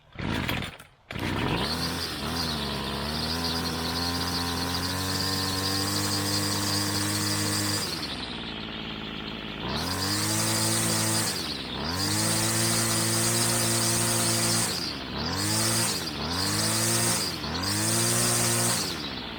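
Gas weed eater engine catches after a pull start, then buzzes loudly and steadily at a high idle before revving up and down in several quick bursts, close by with no talk.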